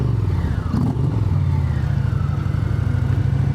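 An Indian Chieftain Power Plus Limited motorcycle idles and revs through a Big Daddy exhaust, a loud, close, deep rumble with a brief throttle blip near the start.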